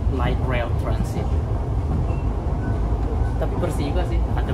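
A light rail transit train in Manila rumbles steadily through its ride, with rolling rail noise and faint clacks. Voices are heard faintly underneath.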